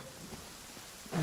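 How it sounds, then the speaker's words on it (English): Steady, soft rain in the video game Genshin Impact, a fine continuous hiss with faint patter that swells louder right at the end. "It is raining."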